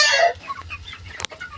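Two-month-old chickens cluck and chatter close by in a backyard pen at feeding time, a brief burst of calls followed by a few soft clucks and a sharp click.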